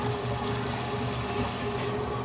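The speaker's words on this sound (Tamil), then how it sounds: "இப்போ இதில் நம்ம தண்ணியை தெளித்து தெளித்து பருப்பை வந்து அரைச்செடுக்க போகிறோம்" Water is sprinkled while urad dal is ground for traditional Kanchipuram idli batter, a steady wet rushing and splashing wash that runs continuously and fairly loud through the whole moment, with no talk.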